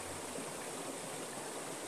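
A waterfall pours in a steady, even rush that fills the whole space, continuous broadband water noise with no breaks and no voices.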